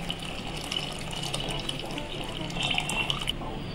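Tamarind extract pours into kathirikai sambar on the stove, a steady close liquid splashing and trickling that runs continuously for a few seconds with no talk over it.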